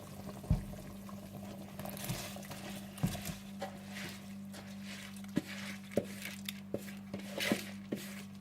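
Water simmers and bubbles softly in a pot as soaked rice is added, with faint scattered pops and splashes over a steady low hum, quiet and close, no voices.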